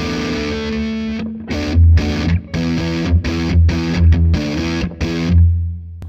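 An electric guitar on the neck pickup is played through a distortion effects pedal: a held chord rings out, then a series of loud, choppy strummed chords with short gaps between them, and no talk.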